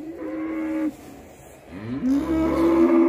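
Cows low loudly at close range on a dairy farm with HF and Jersey cows, one long moo, a short pause, then a second deep rising moo.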